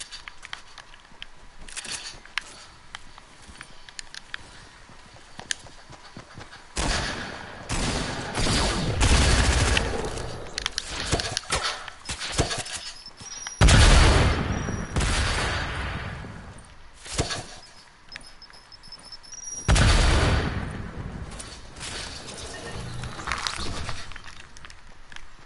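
Repeated loud gunfire blasts from a shotgun in a video game, several heavy bursts spaced a few seconds apart with quieter clatter and rattling between them, no talk over it.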